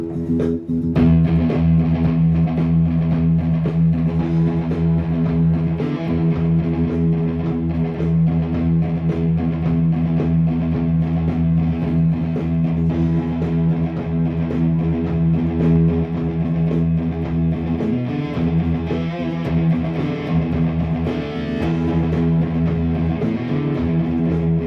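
Electric guitar playing a fast picking exercise, sped up, with a steady dense stream of picked notes and a sustained tone running continuously, no talking.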